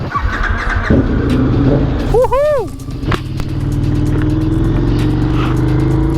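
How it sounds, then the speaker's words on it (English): A KTM 1390 Super Duke R fitted with a power parts exhaust roars on a track in a loud, steady engine drone, while the rider whoops with excitement partway through. "1390 Super Duke R, already a ridiculous motorcycle."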